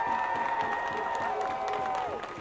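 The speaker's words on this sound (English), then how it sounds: "let's give a round of applause for Anthony Irby" Outdoor crowd at a protest march in Atlanta applauds and cheers, a steady wash of clapping with sustained vocal tones riding over it, fairly close and continuous.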